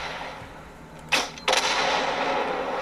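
A 40 mm cannon in a video game fires two sharp, loud reports about a third of a second apart, the second followed by a lingering rumble over steady background noise.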